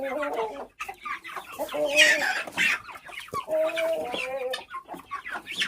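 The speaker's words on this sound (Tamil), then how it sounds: "அந்த கிண்ணி கோழி வந்துருச்சு" Busy poultry chatter with clucking and higher squawking calls from chickens and guinea fowl, close by, continuing steadily with a few sharper cries.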